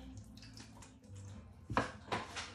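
A duck being lowered into water while preparing it for roast duck, heard as splashing and sloshing that swells into two louder surges near the end, with no talk.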